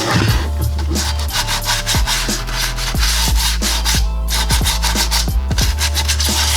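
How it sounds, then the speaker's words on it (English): Hand sanding of epoxy on a Nerf Mega Tri-Break blaster, close and loud repeated rasping strokes in a steady back-and-forth rhythm with no talk. "Just got done sanding for the last Eternity."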